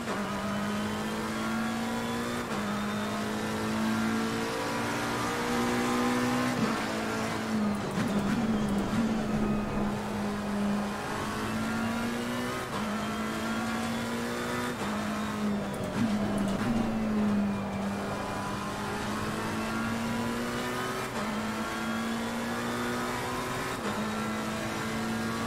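A GT race car in Assetto Corsa Competizione at Zolder, its engine whining loudly and steadily through revs and gear changes, with brief rattling thumps as it rides over the kerbs; no talking.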